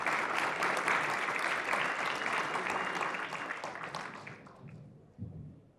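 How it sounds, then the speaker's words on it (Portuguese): Audience clapping for a speaker at a business talk on investment tokenization, a dense, steady round of applause that gradually fades out near the end. "Palmas, por favor, pessoal."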